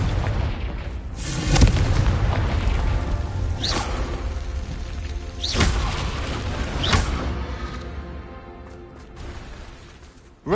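Confringo fire-blast spell in Hogwarts Legacy, a series of deep booming explosions with crackling bursts, several impacts spaced a second or two apart over a rumbling background, loud and fairly close.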